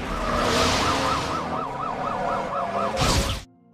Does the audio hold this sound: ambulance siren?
yes